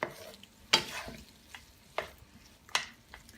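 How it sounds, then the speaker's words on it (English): Tomatoes and olives tossed in garlic and olive oil in a hot pan make a soft sizzle broken by several sharp stirring scrapes and clatters, close and clear, with no voices. "toss the tomatoes and olives in the garlic and olive oil"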